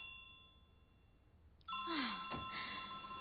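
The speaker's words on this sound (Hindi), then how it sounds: "फोन बज रहा है" A phone rings with a steady electronic tone in an indoor scene, then a sudden louder rustle and knock cut in over the ringing partway through.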